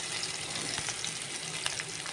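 Onion frying in hot oil in a pan for a Goan chonya ros, a steady close sizzle with small crackles throughout and no talking.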